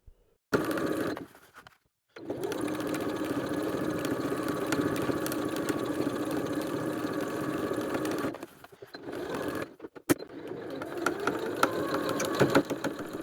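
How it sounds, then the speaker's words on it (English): A sewing machine stitching around the edge of a fabric tote bag with a 3mm stitch, a close steady mechanical whir that runs for several seconds, pauses briefly, then resumes in shorter bursts. "Sew all the way around the edge with a 3mm stitch"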